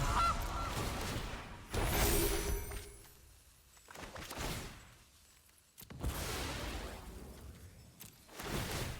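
Gilded Goose card effect in MTG Arena: loud honking goose calls in swelling bursts, each separated by quieter gaps, with whooshing swells in between and no voices.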